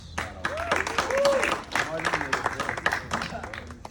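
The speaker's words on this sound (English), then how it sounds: "a round of applause for yourselves" Audience at a poetry performance set applauds, a bright scatter of clapping mixed with cheering voices and crowd chatter, moderately loud and continuous through the short stretch.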